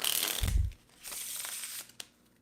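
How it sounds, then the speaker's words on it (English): Deck of playing cards shuffled during a relaxed magic stream: a quick riffling burst with a soft low thump, then lighter card rustling and a sharp snap near the end, close and quiet. "We'll give the deck another quick shuffle."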